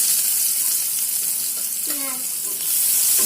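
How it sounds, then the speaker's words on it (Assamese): Chopped onions hit hot oil in a kadai, giving a steady, close, bright sizzle with a faint clink partway through. "তেল গৰম হোৱাত মই দিছোঁ পিঁয়াজ।"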